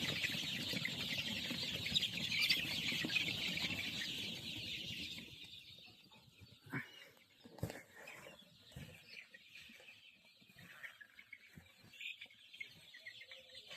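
On a crowded farm of Sonali chickens, many birds cluck and chatter densely for the first few seconds. The flock then thins out to scattered nearby clucks and a few wing flaps, with no talking.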